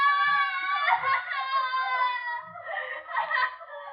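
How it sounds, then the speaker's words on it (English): A woman screams in a 1949 radio suspense drama, a long high wavering wail that breaks off briefly and then rises again in a second anguished burst, loud and alone with no talk over it. "They scream because they remember things."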